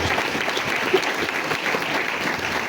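A church congregation giving loud, sustained applause, dense clapping from many hands filling the room evenly and steadily from start to finish.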